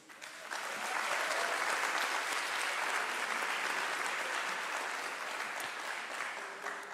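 Applause from the audience at a public forum session, a steady wash of many hands clapping that swells in quickly and holds evenly, fairly distant and soft.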